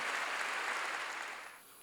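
Congregation clapping in a church during a sermon, a dense steady wash of applause that fades toward the end.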